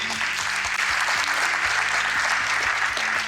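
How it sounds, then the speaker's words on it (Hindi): Sustained audience applause in a hall, steady and loud from start to finish, with a rhythmic low thumping pattern running beneath the dense clapping. "तालियां बजती रहनी चाहिए।"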